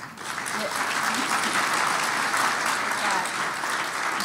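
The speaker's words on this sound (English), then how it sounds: "you can hold your applause for the whole group" A conference audience at a community violence intervention gathering breaks into sustained applause, a dense, even roar of many hands clapping that swells quickly and holds steady for over four seconds.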